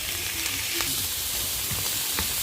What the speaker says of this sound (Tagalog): Gisa natin sa garlic at onion. Pinaghalo na natin. Mag-add tayo ng mushroom.